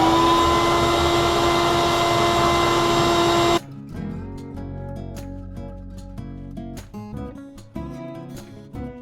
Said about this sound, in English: we're at the sandblast cabinet. Now I realize that it's going to be noisy as hell here